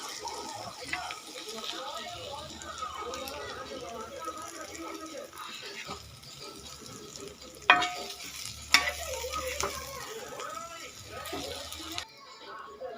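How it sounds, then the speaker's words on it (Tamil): Onions, green chilli and curry leaves sizzle gently in hot oil, a soft steady frying hiss with occasional stirring scrapes and two sharp utensil clinks, someone speaking over it throughout. "பச்சை மிளகா, கருவேப்பிலை இதை எல்லாத்தையும் எண்ணெயை ஊற்றி கொஞ்சோண்டு வதக்கிடுவோம்."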